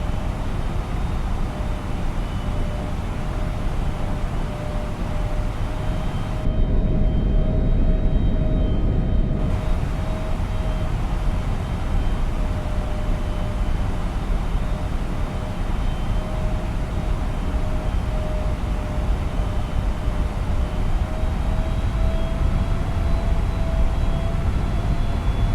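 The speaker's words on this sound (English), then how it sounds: "There's the thrust coming up." Steady engine roar of an Airbus A321neo in the FSLabs flight simulator, a continuous broadband rumble with a faint sustained whine that holds level for the whole clip.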